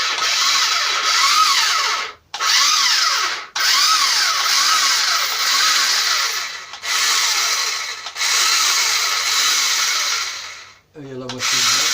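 A Cleveland electric blender (Moulin) motor whirs loudly and continuously with a scraping, rubbing fault noise and pulsing sweeps, cutting out briefly several times before stopping near the end.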